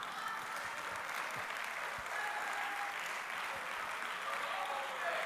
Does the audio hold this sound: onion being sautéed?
no